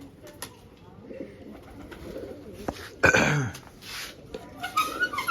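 Pigeons around a trap net outdoors, with soft cooing and wing flutters, a louder burst of flapping midway, faint voices in the background.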